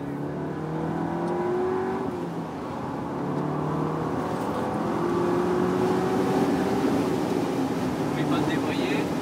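Seat Leon Cupra 280 hot hatch on the Dreux circuit, its engine revving in Cupra mode with rising and falling pitch sweeps, loud and continuous, as people talk over it inside the car.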